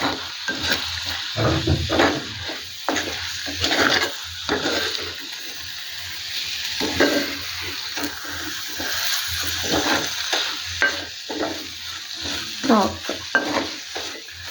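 Prawns being stirred in hot oil in a pan for a Kerala prawn roast: continuous sizzling and frying with repeated scraping, clattering stirring strokes, close up and moderately loud throughout.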